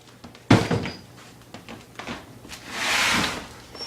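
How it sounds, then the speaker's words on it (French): A door slams shut indoors with a single sharp, loud bang, followed by quieter knocks and shuffling, then a hissing burst near the end. "Ferme la porte!"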